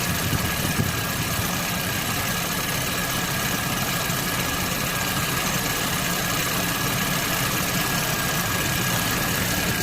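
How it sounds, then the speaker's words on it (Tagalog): Car air conditioning compressor running after a magnetic clutch replacement, a steady mechanical hum and engine idle drone holding evenly throughout at moderate level, with no talking. "Gumagana na ang compressor."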